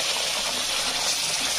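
Water poured into a pan of masala frying for Kolhapuri mutton curry, heard as a steady, close, bright gushing hiss lasting the whole moment with no talk over it.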